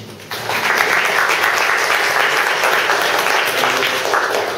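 An audience at the close of a community reading meeting breaks into applause: after a brief quiet moment, loud, steady clapping from the whole room starts abruptly and continues unbroken to the end.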